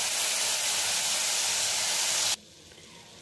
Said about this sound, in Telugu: ఇప్పుడు ఈ తొక్క బాగా ఫ్రై అవ్వాలండి